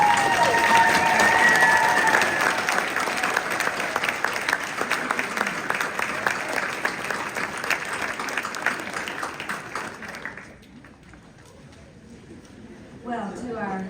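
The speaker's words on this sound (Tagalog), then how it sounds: "I want you to stand and to face this crowd and applause these individuals that are here" A graduation audience applauds faculty and families with dense, loud clapping and crowd noise that holds for about ten seconds, then drops sharply to a quieter murmur with a brief swell at the end.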